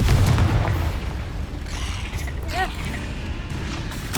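A Confringo spell explosion in Hogwarts Legacy booms loudly at the start and rumbles into a fading tail, with a short whooshing magical flourish partway through over steady game ambience.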